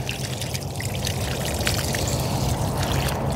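Water pours steadily from a container onto newly planted perennial hibiscus and Supertunias in a dry garden bed, a continuous close splashing trickle with no talk over it.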